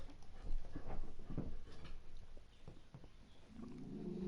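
A dog whimpers and snuffles close by in a room, short restless bursts over low rumbling background noise, with a steadier hum toward the end.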